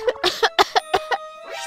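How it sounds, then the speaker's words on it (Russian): A rapid series of about seven close, sharp coughs comes in quick rhythm, then trails off into a brief vocal sound, over faint background music. "Что это за кашель?"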